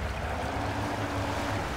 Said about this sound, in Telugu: వాటర్ సౌండ్ కూడా భలే అనిపిస్తుంది గైస్, నెక్స్ట్ లెవెల్.